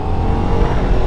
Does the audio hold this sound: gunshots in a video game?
no